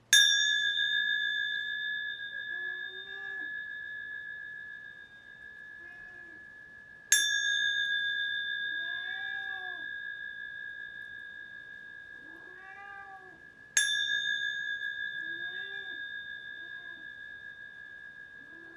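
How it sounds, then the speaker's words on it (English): A pet cat meows several times in the background, rising and falling cries spread through the quiet, while clear bell-like chimes ring out three times and slowly decay. "that's just my cat Toby here, who you're hearing in the background"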